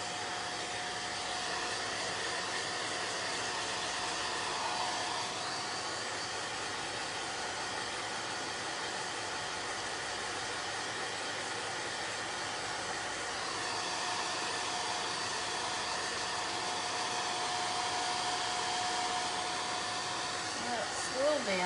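A handheld dryer blows on chalk paint on a craft project, a steady, continuous close whirring hiss that runs for the whole stretch with only slight changes in pitch.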